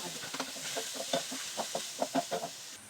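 Chicken pieces going into a pan with onions for arroz caldo, giving a soft sizzle with a series of stirring scrapes and clatters at close range.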